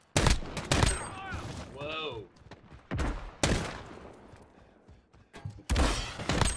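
Bursts of gunfire in the Modern Warfare video game, several loud sharp volleys and rapid shots in quick succession, with a player's brief exclamation between them.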